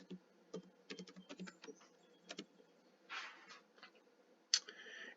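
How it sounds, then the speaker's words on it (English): Typing on a computer keyboard, close and quiet, with irregular bursts of clicking keystrokes separated by short pauses and a brief sharper tap near the end. "I'm going to come up here in the search, and I'm just going to actually type in cookbooks."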